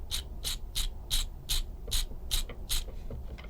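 An 80s RC Chevy car's small electric motor and gears run under power, giving a rapid, evenly spaced series of nine or ten sharp ratcheting whirs, close and fairly loud.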